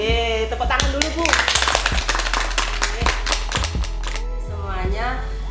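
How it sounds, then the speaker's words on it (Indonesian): Audience clapping at an Indonesian community program event, sharp rhythmic claps in the foreground, with voices and other sounds mixed in throughout. "Tepuk tangan dulu, Bu."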